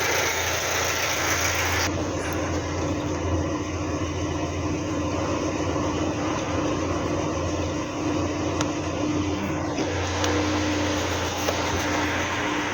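A Hillman Super Minx engine idles steadily nearby, a continuous even rumble with mechanical clatter that holds unchanged for the whole stretch, no voices.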